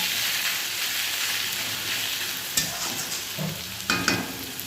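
Snake gourd frying in a pan, a steady close sizzle with a few scraping stirs of a spatula near the end.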